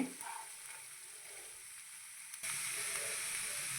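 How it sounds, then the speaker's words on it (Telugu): Tender black-eyed bean pods go into a hot frying pan, giving a steady close sizzle that jumps louder and stays bright as the pods hit the oil. "లేత అలసంద కాయలు అయితే వేస్తున్నాము"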